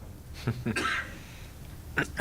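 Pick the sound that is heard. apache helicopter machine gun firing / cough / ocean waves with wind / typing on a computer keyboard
cough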